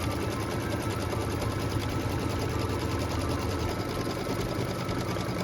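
A sewing machine stitches a tack-down line through a quilt block and its batting, giving a steady, fast, even mechanical whir that runs close and continuous throughout.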